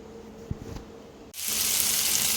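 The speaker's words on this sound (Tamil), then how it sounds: "சேர்த்து கொஞ்சோண்டு எண்ணெய் மேலே போட்டு நல்லா பொரிச்சுக்கலாம்" Fish frying in oil in a kadai: a quiet kitchen hum with a couple of light knocks, then a sudden loud, steady sizzle rises and continues close by.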